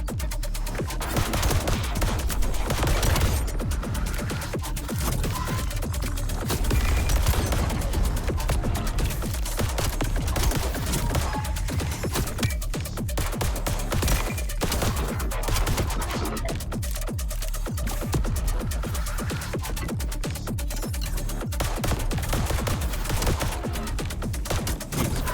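Gunfire in the shooter video game Voidbreaker: dense, nearly continuous rapid shots and bursts rattle loudly throughout without pause.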